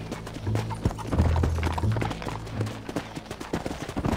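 Horse hooves clip-clop at a steady trot in Red Dead Redemption, close and fairly loud, with the rhythmic beats running throughout and a low rumble of game ambience underneath.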